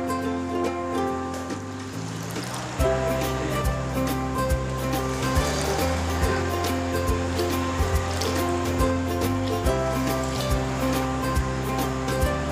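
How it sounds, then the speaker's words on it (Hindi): Water poured from a cup into rice before microwave cooking, a steady rushing splash that runs continuously and fairly loud, close by, with faint background tones and no talk. "और मैं इसी कप से अब 4 कप पानी डालूंगा इसमें।"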